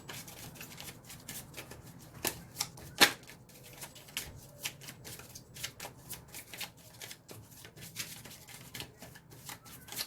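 Tarot cards being shuffled and drawn, with irregular crisp riffles and snaps of card stock spread over ten seconds, close and fairly quiet, with no talking.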